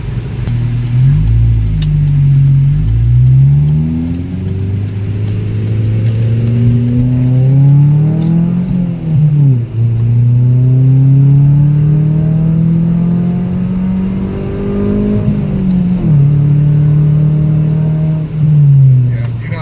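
A modded Ford Focus engine fitted with a Mustang throttle body revs repeatedly, pitch climbing and falling in several loud pulls close by, with voices talking over it.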